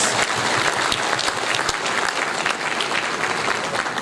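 Conference audience at a Rotary International district gathering breaks into sustained, dense applause, a loud continuous clatter of many hands with no talking over it.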